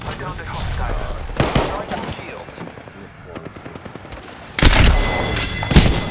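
Video game firefight with bursts of automatic gunfire and heavy booming shots, loud and close, starting with rapid fire, easing into scattered shots, then erupting again near the end, with voices talking over it.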